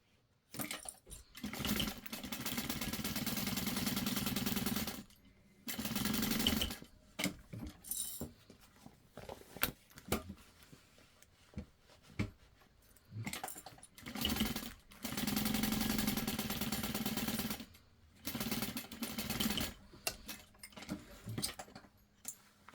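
A sewing machine basts pieces of a handbag in several runs of steady rapid stitching, each a few seconds long, separated by short pauses and quiet handling noises.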